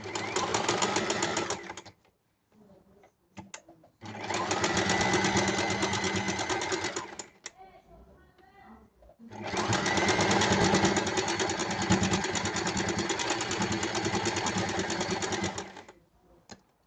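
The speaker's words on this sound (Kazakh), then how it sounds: "Міне енді бергі беті тігіледі." A sewing machine stitches a two-sided reed mat, running in three loud sustained bursts with brief quiet pauses between them, no talking.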